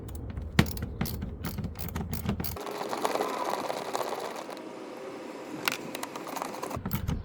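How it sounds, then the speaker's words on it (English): A ratchet backs out the mud flap bolts on a 2020 or later Toyota Highlander, giving rapid clicking, then a stretch of continuous mechanical whirring and a few sharper clicks near the end. "There are 4 bolts holding in on each mud flap, 2 on the side and 2 on the bottom. Let's go ahead and remove that."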